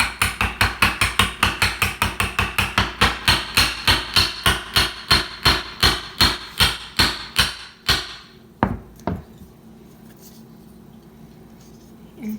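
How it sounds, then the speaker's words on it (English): Hammer tapping aluminum drink cans laid over a piece of wood while shaping a can alcohol stove, a steady run of about thirty close, sharp metallic taps, then two final taps and quiet. "you're going to take your wood and your hammer"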